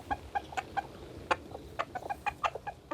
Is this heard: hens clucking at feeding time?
yes